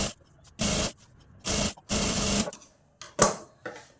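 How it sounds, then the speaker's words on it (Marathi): Sewing machine stitching a katori blouse piece, running in several short bursts of broadband whir separated by pauses, close and fairly loud, with no talking. "इथे आपल्याला दाब शिलाई द्यायची आहे"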